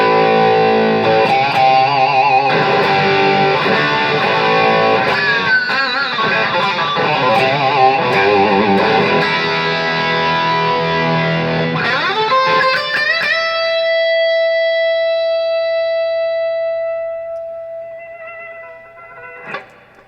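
A distorted electric guitar through an amplifier into a CAPTOR 16 load box plays chunky, gritty riffs, then ends on a sustained chord that rings out and slowly fades, loud and close.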